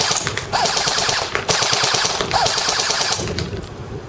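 An A&K ACR Masada airsoft gun fires full auto at a target 100 feet away, with rapid mechanical bursts rattling continuously across the span and a brief pause between strings, close and loud.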